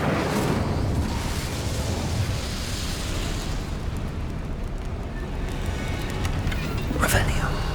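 A fiery spell blast in Hogwarts Legacy, a dense roaring burst of flame and explosive noise that fills the whole clip, loud and sustained with a brighter flare near the end.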